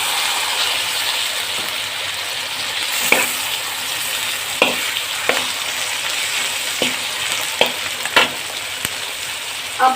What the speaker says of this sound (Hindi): साथ हम डाल देते हैं लहसुन अदरक का पेस्ट और इसको थोड़ा सा चम्मच चलाएंगे, हल्का सा ये भी फ्राई हो जाए।